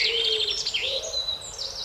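Birds in mossy woodland trade high, thin chirps and whistling calls, a few overlapping notes at moderate distance with no voices.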